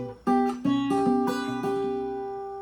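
A short fingerpicked acoustic guitar lick, several plucked notes ringing into one another, clean and close, played alone with no voices.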